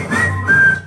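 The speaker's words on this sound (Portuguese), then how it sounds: "Eu posso assobiar" A person whistles two sustained, steady notes in a row, clear and close, at a campaign committee opening event in Rondonópolis, Mato Grosso.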